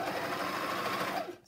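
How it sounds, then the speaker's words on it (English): An overlocker stitches a seam on gym shorts, a steady fast mechanical whirr that runs continuously and close by, then cuts off abruptly at the end. "Love my overlocker."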